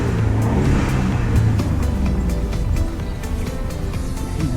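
A modified Ford F-150 EcoBoost truck engine runs with a steady, loud rumble that eases slightly partway through, heard close up with no talking.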